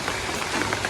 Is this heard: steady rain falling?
yes